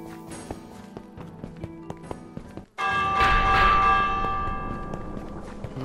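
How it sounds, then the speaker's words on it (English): Soft game footsteps lead into a bell being rung in Minecraft Dungeons, which strikes loudly and then rings out with a long, shimmering decay. "might as well ring the bell then."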